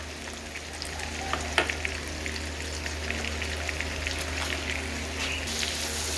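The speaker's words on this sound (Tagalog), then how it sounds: "Palutuin natin ng medyo yung bawang." Garlic frying in butter sizzles steadily and close, with a few sharp scrapes as it is stirred around the pan, the crackle holding even throughout.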